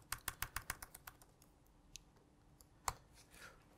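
Fingers tap out a telnet command on a computer keyboard: a quick burst of about seven crisp keystrokes, then a few scattered clicks, faint and close with no talking.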